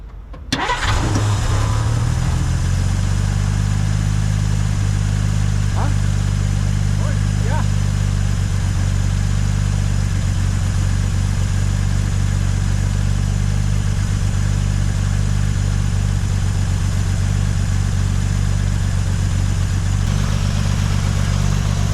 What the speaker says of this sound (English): Let's fire her up.